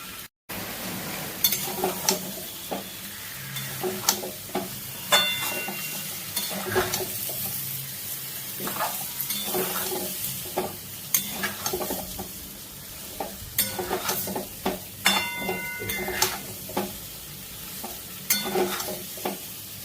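Chopped onion and garlic cloves fry in a pan with a steady, busy sizzle, broken up by repeated scraping and stirring of a spatula against the metal.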